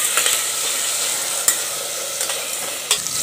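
Chopped tomatoes and vegetables sautéing in a little oil give a steady close sizzle, with a few sharp spatula scrapes and stirs breaking through; no one speaks.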